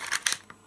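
A short mechanical click-clack as the hammer of an Umarex Jericho 6mm airsoft pistol is drawn back, two quick snaps followed by a softer click, close and brief.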